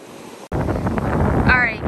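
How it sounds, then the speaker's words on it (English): Waves break on a shell beach under strong wind, a loud, rushing wash of surf that starts abruptly and roars steadily, with heavy wind buffeting the microphone. "The waves are really crashing in."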